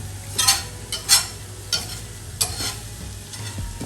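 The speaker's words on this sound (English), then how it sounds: "because the eggs are going to continue to cook." Scrambled eggs stirred in a pan just after the heat is switched off, giving a soft sizzle with several distinct scraping strokes spaced about a second apart, close and moderately quiet with no talk.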